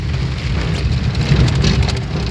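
Morning rain in Sanjouli, in the dark just after seven, falls as a dense, constant patter with a low rumbling undertone. It is fairly loud and steady, with a few louder drops or splashes and no voices.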